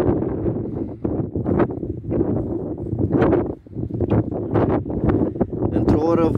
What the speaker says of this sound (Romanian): Bate vântul foarte puternic.